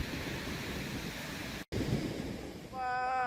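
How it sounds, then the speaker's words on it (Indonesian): Rough sea off the Bali coast, with waves near two metres, surges and breaks in loud, continuous roars while strong wind buffets the microphone; a brief dropout interrupts it, and a faint tonal sound rises at the end. "Selama ketinggian gelombang mencapai 2 meter disertai angin kencang"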